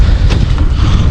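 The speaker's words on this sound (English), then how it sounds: "It's a bit windy. A bit windy." Wind gusts batter a small inshore fishing boat off Cornwall, a loud, steady low rumble of buffeting against the microphone with a brief rush of air midway and no talk.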